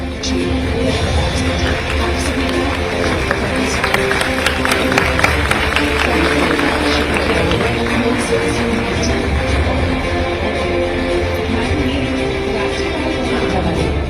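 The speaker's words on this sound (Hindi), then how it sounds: "आपकी जोरदार तालियां इसके लिए बनती हैं" Loud, steady applause from a large audience fills the hall throughout, dense and unbroken, at a state-level teacher honour ceremony in Bhopal attended by Chief Minister Mohan Yadav.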